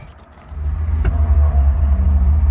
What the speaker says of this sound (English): Let me start this thing up.